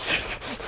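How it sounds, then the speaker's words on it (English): A short, close, raspy scrape of a burnishing block sanding alcohol ink off an aluminum surface, a soft, even rubbing stroke. "And I'm just sanding off that top color."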